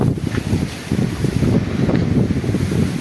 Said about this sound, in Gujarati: બહુ પવન છે મારા ભાઈ